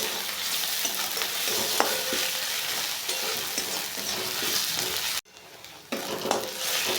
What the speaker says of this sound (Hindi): इसके साथ साथ इसको भी भूंज देते हैं ताकि इसका कच्चापन चला जाए।